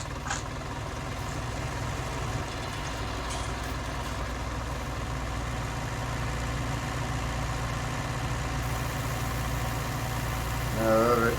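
A farm tractor idling during a 1966 sugar beet harvest, a steady low engine rumble running throughout, close and even, with a brief rise near the end.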